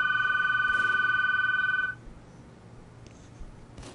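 A telephone rings loudly in a steady electronic trill for about two seconds, then cuts off, leaving a quiet room with faint background noise and a couple of small clicks.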